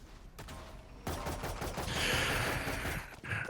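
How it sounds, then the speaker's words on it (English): Explosions and bursts of gunfire from both sides in a collegiate esports shooter match, with rapid shots and blasts layered densely over a steady rumble, building louder midway and then easing off. "Early explosions and shots going down here from both sides."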